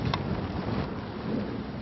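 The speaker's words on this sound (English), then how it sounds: "As the icy rain lashes down, Josh soon grinds to a halt yet again." Icy rain lashes down in the Andes as a steady, dense broadband roar with a faint wind rumble beneath, continuous and fairly loud throughout.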